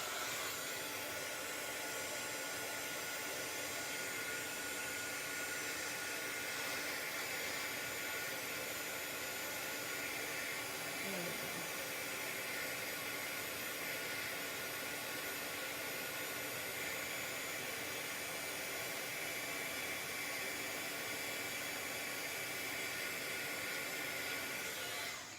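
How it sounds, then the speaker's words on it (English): Steady roar of a heat gun blowing hot air while heating a craft material, a continuous broadband hiss that holds at an even, fairly loud level throughout with no talking. "so I'm gonna switch to the other heat gun"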